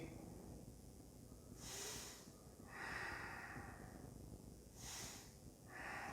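Slow Ujjayi breaths during a yoga session, each one a soft, hissing, throaty rush of air, three or four long inhales and exhales, close and quiet with no talk.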